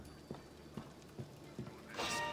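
Horse hooves clip-clop in the ancient Greek world of the video game Assassin's Creed Odyssey, a few evenly spaced, muffled hoofbeats at moderate distance, ending in a brighter rushing burst.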